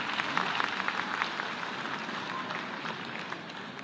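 Applause from an event audience greeting Chief Minister Dr. Mohan Yadav at an environment gathering in Ravindra Bhavan: dense, steady crowd clapping that keeps going at an even level for the whole stretch, with no voices over it.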